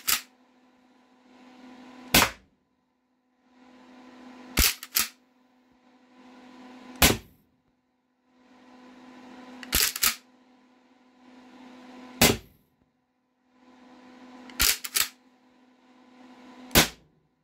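An Umarex HDX68 HPA air pistol with a master cylinder fires a series of sharp, loud shots spaced about two to three seconds apart, each followed by a short hiss of air refilling, close to the listener.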